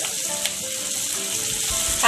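Green capsicum sizzles loudly in a hot pan for a Maggi noodle dish, a steady bright frying hiss with light scraping of stirring, no voices.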